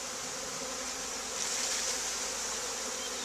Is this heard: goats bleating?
no